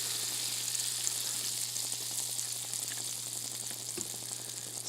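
A quesadilla fries in a hot pan with a steady, even sizzle throughout, carrying a faint crackle and a single soft knock near the end.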